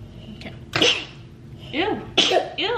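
A small child sneezes a few times in quick succession, close by, with a woman's brief reactions spoken in between.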